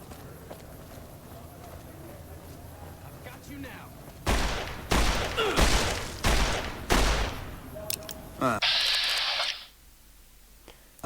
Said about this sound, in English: He's just shooting them.